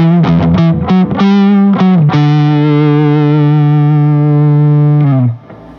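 An electric guitar played through amp distortion: a few quick picked notes, then one thick, buzzing note held for about three seconds before it cuts off, loud and alone.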